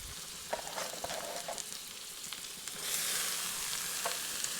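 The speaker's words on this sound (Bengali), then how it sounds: "এরপর এখানে দিচ্ছি গাজর কুচি," Chopped carrots and onion sizzling in hot oil in a pan, a steady crackling fry with occasional stirring scrapes, growing slightly louder toward the end.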